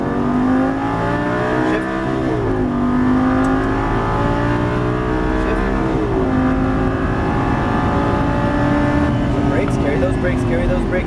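Lamborghini Gallardo LP550 engine revving hard on a racetrack at Exotics Racing in Las Vegas, loud and close with rising and falling pitch through gear changes, under a driving instructor's steady talk.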